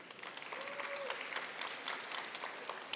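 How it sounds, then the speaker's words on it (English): An audience at a live-streamed conference main stage applauds, a steady dense round of clapping heard at a distance and fairly quietly, holding evenly throughout without speech over it. "a big round of applause for Jim Chang"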